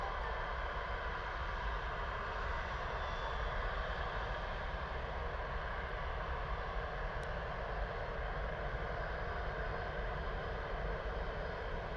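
An EasyJet Airbus A320neo jet arriving overhead at Bristol Airport makes a steady, broad engine roar that holds evenly throughout without fading.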